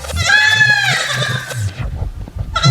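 A goat gives a long, loud wavering scream that rises and then trails off over about two seconds, followed by a short burst of noise, with a low background rumble throughout.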